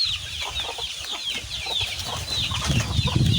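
Several chickens cluck and chatter continuously nearby, with soft rustling and a low scuffling underneath.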